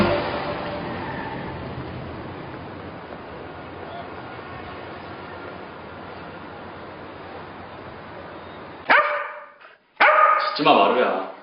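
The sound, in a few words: dog barking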